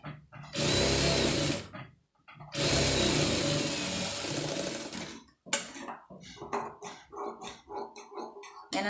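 A tailoring sewing machine stitching an embroidered blouse runs in two loud continuous bursts with a short pause between them, followed by a string of sharp clattery knocks and taps nearby.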